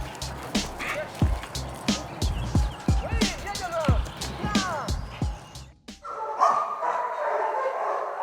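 Military dogs in a kennel at Budel in the Netherlands, barking loudly and repeatedly in overlapping bursts with yips and whines close by, then cutting off into a quieter hiss with a faint voice.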